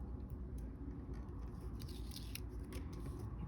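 Top paper layer being peeled off an acetate sheet for a DIY planner dashboard, a close, steady dry crackling tear with a few sharper rips through it, no talking.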